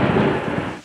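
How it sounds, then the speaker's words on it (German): Thunder outdoors during fishing, a loud, broad rumbling roar with rain-like hiss that fades out abruptly at the end. "Oh, ich glaube, gleich gewittert's."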